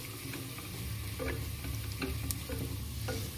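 Turmeric, cumin, coriander and red chilli powders with onions stirred in a hot frying pan, a close steady sizzle broken by repeated scraping strokes of the spoon.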